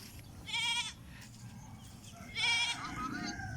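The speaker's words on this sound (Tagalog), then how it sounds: "Ayun, umiyak na si kambing." A goat on a grassy farm gives two wavering bleats about two seconds apart, clear and moderately near over a low rustling background.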